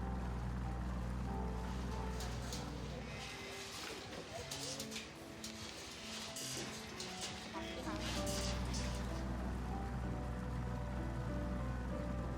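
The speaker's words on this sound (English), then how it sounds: "We took a boat ride at sunset with breathtaking views." A boat motor hums steadily on Cheow Lan Lake in Khao Sok at sunset, its low drone joined by water splashing and rushing along the hull, with a voice talking over it.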